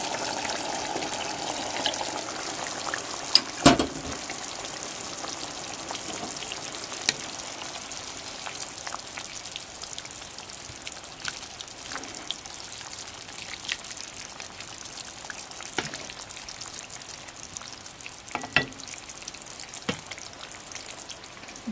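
Water poured into a pot of spicy pork menudo, a steady hiss and gentle gush with scattered drips and a few sharp clinks, no talking.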